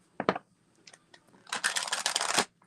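An oracle card deck being shuffled by hand in a quiet room, with two quick riffling bursts at the start and then a longer, dense run of papery card flutter.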